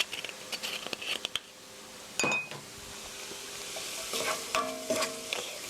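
Meat seasoned with soy sauce and rice wine stir-frying for japchae, a soft sizzle beneath clattering spatula strokes and metallic clinks against the pan, in bursts with a quieter stretch between.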